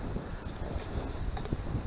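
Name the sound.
wind at the top of a mountain fire tower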